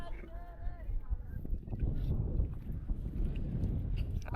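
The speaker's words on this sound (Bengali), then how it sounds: "আরে বাতাসও সেই বাতাস" Wind gusts over a lotus lake in a village in Cumilla, a steady low roar buffeting the microphone throughout, with faint distant voices underneath.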